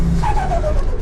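A Holden VL's engine revs hard at full throttle, a deep, loud roar with a rising tone that sweeps upward briefly.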